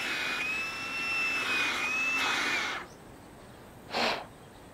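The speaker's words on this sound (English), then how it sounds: "So you can either blow it out with a compressor or a little hand pump." An air compressor blowing dust out of a drilled hole for a pergola fixing: a loud steady hiss of air for about three seconds, then a brief second burst, close by.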